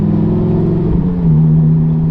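A Lamborghini Gallardo being driven, its engine a loud, steady close drone that shifts pitch partway through as it changes speed, with no talking.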